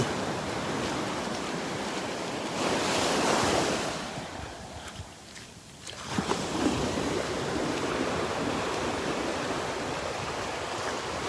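Ocean waves rolling onto the open beach at Marco Island, Florida, a continuous wash of surf that swells and briefly eases before building again, with wind noise and no speech.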